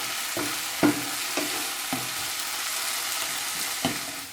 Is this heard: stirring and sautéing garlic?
yes